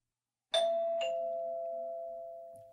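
Doorbell ringing in a quiet, empty town: a clear two-tone chime, struck twice in quick succession, then a long ringing decay, fairly close and alone.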